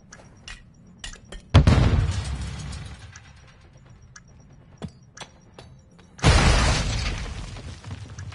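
A device detonates in a video game, heard as two heavy explosive blasts with shattering debris several seconds apart, each loud and decaying, with faint clicks and mechanisms between them.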